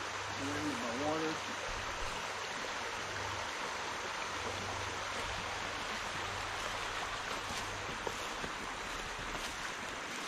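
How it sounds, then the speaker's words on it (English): A big stream rushing past a field in the Blue Ridge Mountains of Virginia, a broad, steady wash of flowing water with wind noise. A faint voice can be heard near the start. "Of course, you can see the big stream still runs by this field."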